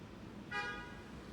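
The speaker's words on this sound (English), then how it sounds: "Nice red car and the honking." A red car gives a single short honk of its horn, fairly faint over steady street noise.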